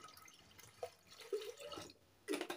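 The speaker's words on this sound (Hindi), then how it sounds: "1 गिलास जो है मैं ये वाला ठंडा पानी ऐड करूँगी।" Cold water poured into a glass of sattu sharbat, a brief trickling splash that comes in short bursts with pauses between them, heard close and fairly quiet with no voices.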